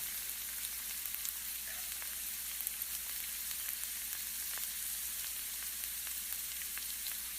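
Chopped Malabar spinach (pui saag) frying with vegetables and spices in a pan gives a steady, even sizzle that runs the whole time, fairly quiet, with no voices.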